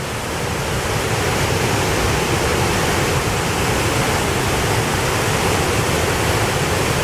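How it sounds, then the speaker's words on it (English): Floodwater rushes down with great force in a steady, loud, unbroken roar of turbulent water, close and constant for the whole span with no voices. "The water's probably coming down with enough force to crush a person."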